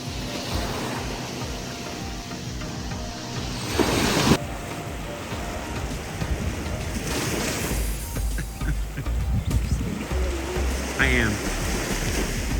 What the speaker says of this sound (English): we got up early and we're at the beach. There's the pier behind me